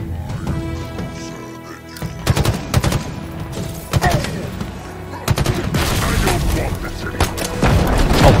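Explosions and gunfire in the Halo Infinite campaign: bursts of rapid weapon fire and heavy booms in clusters, loud and close, with someone talking over parts of the action.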